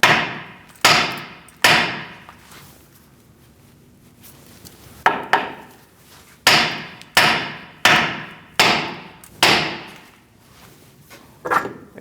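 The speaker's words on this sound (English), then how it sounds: "Now you're going to give it a whack right here." A hammer whacks the wheel hub knuckle of a 2002-2006 Toyota Camry, about eleven heavy, close thuds in an uneven rhythm with short gaps and one longer pause.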